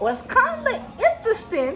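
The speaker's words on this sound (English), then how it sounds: "That's my dog now." A dog whimpers and whines in a rising, falling series of high cries close by, with a person speaking briefly over it.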